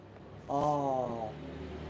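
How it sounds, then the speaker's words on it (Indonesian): A sleeping person snoring, one drawn-out rasping snore that swells and fades over about a second, close and clear against a quiet room. "Adik bubuk kakak tuh ngorok."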